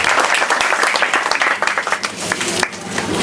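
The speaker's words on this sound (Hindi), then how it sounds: "तालियों के साथ, जोरदार तालियों के साथ सम्मानित कीजिए।" Loud, dense applause from a crowd at a Jan Suraaj political rally in Nalanda, Bihar, with many overlapping claps sustained for a few seconds and a brief dip near the end.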